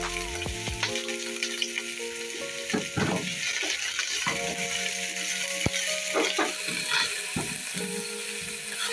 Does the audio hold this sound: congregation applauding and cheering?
no